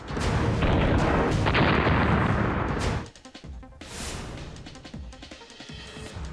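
Artillery shelling of Russian positions in Ukraine: a long, loud rumbling barrage of booms for about three seconds, then quieter scattered blasts and pops rolling in the distance, with no voices.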